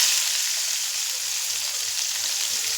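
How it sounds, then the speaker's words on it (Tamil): Onions and green chillies fry in hot oil with a steady, close hiss of sizzling that holds evenly from start to finish. "அடுத்தது வெங்காயம் போட்டுக்கலாம்."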